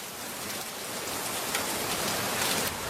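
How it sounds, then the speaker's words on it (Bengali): Heavy cartoon rain pours down in a steady, hissing wash of drops striking surfaces, even and unbroken, with no voices. "দেখ কত জোরে বৃষ্টি হচ্ছে"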